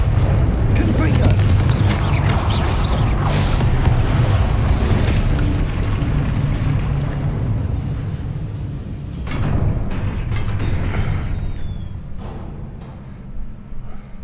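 A Confringo spell explosion in the video game Hogwarts Legacy gives a loud, deep booming blast with a rumbling low end that lasts for seconds, followed by a second burst near the end.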